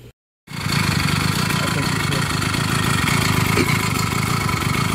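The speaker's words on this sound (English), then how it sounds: "As you can see, the bike is running now, but it's not running that smooth." A 66cc two-stroke motorized bicycle engine runs continuously and loud up close after a brief silence, its rough, uneven buzz steady through the rest of the clip.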